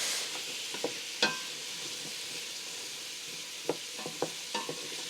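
Onions soften in a pan for a simple lentil soup, a soft steady hiss of frying with a few light clicks and scrapes from stirring, quiet and close, no voices.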